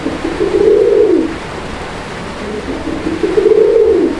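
Pigeons for sale coo up close, two loud, rolling coos separated by a short pause, with faint background noise and no speech.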